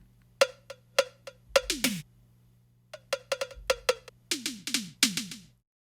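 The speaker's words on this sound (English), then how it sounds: "I believe they're toms that have that real fast lick there." A quick drum pattern of tuned toms and sharp hits in two rapid phrases, with falling pitched tones over a low steady hum.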